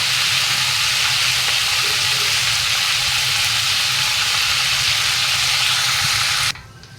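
Whole spices sizzle loudly in hot oil: bay leaf, panch phoron and dried red chilli tempering in a pan for a Bengali dish, a dense, continuous frying hiss close up that cuts off abruptly near the end.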